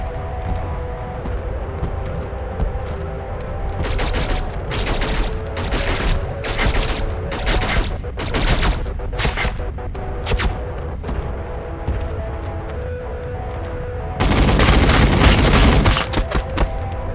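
Rapid bursts of gunfire from a Warhammer 40,000: Battlesector battle scene, loud and close. Staccato volleys come in clusters, separated by short gaps, then a heavier sustained barrage near the end.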